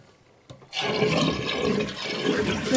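A toilet flushing during a flush lever replacement: a short click, then a loud, steady rush of draining and refilling water that runs close and alone to the end.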